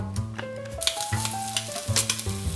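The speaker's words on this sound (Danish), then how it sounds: "Så skal det bare stå her og stege en 5-10 minutter." Tofu frying in oil in a pan, a steady close sizzle with crackling pops, under a sustained tonal hum that shifts in pitch.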